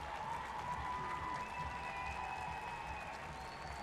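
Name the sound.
stadium crowd applauding an injured football player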